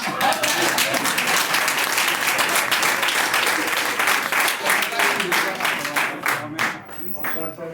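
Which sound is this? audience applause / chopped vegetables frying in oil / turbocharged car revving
audience applause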